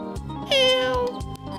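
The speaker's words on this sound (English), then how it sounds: "Hello there, kitty." Cat meowing in the video game Discounty, a single short, clear, close meow over soft ambient background.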